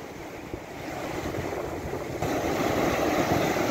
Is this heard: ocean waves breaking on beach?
yes